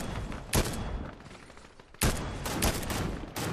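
Rapid bursts of gunfire in a shooter video game, loud and dense, with sustained volleys broken by short gaps.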